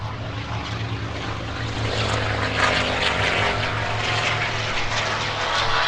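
Hawker Hurricane propeller fighters fly at the Sywell airshow in 2024, their piston engines droning in a steady, rising roar that builds louder as they pass, with no voices.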